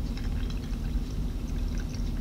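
Tap water runs from a faucet into a shampoo mixture in a steady, close, continuous rushing pour with no pauses.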